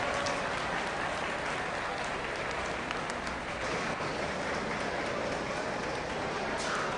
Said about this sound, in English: Let's give these 5 a round of applause